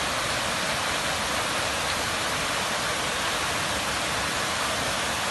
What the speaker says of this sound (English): I present to you Choke Creek Falls, one of my happy places.